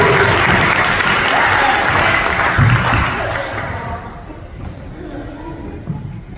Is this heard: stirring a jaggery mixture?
no